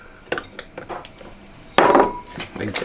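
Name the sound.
tossing butter into galette dough in a bowl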